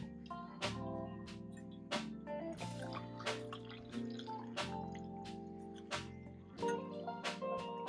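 Ginger milk tea poured into a cup gives soft dripping and liquid trickling sounds with a few clinks, quiet and close, over a faint background hum.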